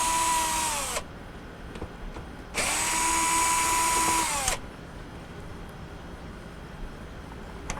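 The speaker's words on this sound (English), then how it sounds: "next thing we're going to do is just remove the two Phillips screws" A power drill whirs as it backs out Phillips screws on a Frigidaire washer door lock, running in two close bursts of about one and two seconds with a quiet pause between.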